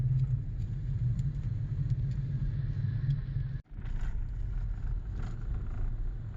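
A car drives along a dirt road in remote country, giving a steady low rumble from the engine and tires, with one brief dropout midway and no talk.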